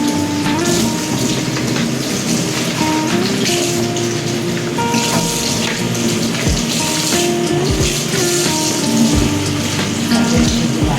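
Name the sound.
running water washing chicken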